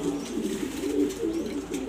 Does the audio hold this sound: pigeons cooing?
yes